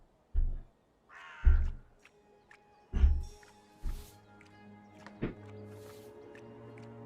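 Bird cawing in the video game Dreamfall Chapters: several loud, harsh calls at a steady pace over the first four seconds, then softer sounds under a low ambient game drone.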